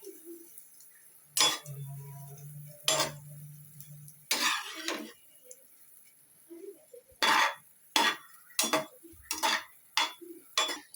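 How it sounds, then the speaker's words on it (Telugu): A spoon stirs and turns frying food in a pan, giving a series of sharp metallic clinks and scrapes spaced irregularly, fairly close and moderately loud, with quiet gaps between strikes and no talking. "ఒకవైపు ఫ్రై అయిన తర్వాత ఇలా చక్కగా మనం చెంచాతో తిప్పుకోవాలి"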